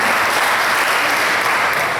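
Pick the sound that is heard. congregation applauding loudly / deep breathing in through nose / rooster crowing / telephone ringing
congregation applauding loudly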